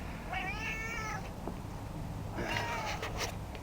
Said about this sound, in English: And there's my friend the cat.